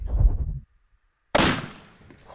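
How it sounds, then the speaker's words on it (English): A single 30-06 rifle shot fired at a ballistic target, a sharp loud blast that cuts in after speech and a pause, then a broad rumbling decay trailing off over the next second. "Oh, that sounded like a secondary gunshot."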